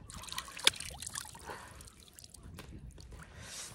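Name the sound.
washing face with water at a dam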